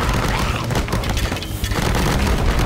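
An airstrike in the Stick War Legacy game, a dense barrage of booming explosions and rapid gunfire-like blasts pounding continuously and loudly for the whole stretch, with no clear pause.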